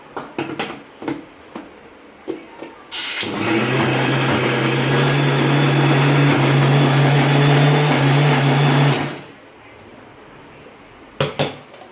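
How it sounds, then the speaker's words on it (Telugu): A faulty mixer grinder whirs loudly for about six seconds, coarsely grinding ivy gourd, with a steady motor hum, framed by clinks and taps of a jar before and after. "కొంచెం మిక్సీ ప్రాబ్లం ఉంది"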